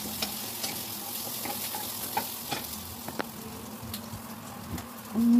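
Onion and ginger sautéing in a pan for chicken curry, a steady soft sizzle with scattered stirring clicks and scrapes throughout, fairly quiet and close, with no talk over it.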